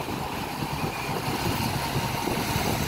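A motorcycle rickshaw (becak motor) engine idles steadily and loudly nearby, a continuous even rumble with no voices over it.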